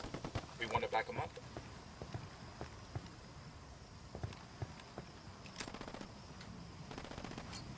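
Gunfire in Ghost Recon Wildlands, a burst of quiet rapid shots early on, then scattered faint shots and impacts in a rebel and cartel firefight, with the overall mix staying low.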